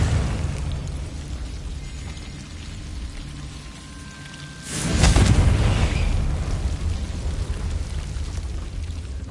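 Confringo fire spell blast in the game Hogwarts Legacy, a sudden booming burst that swells midway and trails off into a long rumbling wash over a constant ambient bed.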